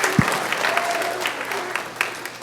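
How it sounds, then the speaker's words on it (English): Applause from parents at an elementary school fifth grade graduation, honouring a teacher and her class; a steady crowd clapping throughout, fairly close, with a few sharper claps standing out. "Let's give a round of applause to Miss Smith and her awesome class"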